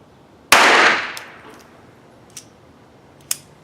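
One sharp, loud shot from a Colt 1908 pistol at a shooting range, decaying over about half a second, then two faint metallic clicks or clinks spaced apart.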